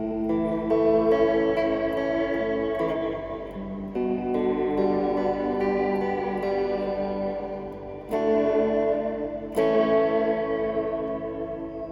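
Tape-style echo delay from a Fender Reflecting Pool pedal in its studio setting, repeating sustained electric guitar chords with dense smeared tails, swelling and decaying continuously, loud and alone with no talking.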